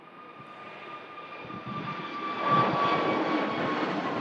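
An EasyJet airliner rolls along with its jet engines giving a faint distant whine and steady rumble that swells slightly louder toward the end.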